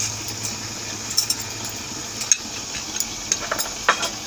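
Country chicken curry being stirred in a pot, a soft steady simmering hiss with faint scraping and light clinks of the spoon against the pot, quiet and close.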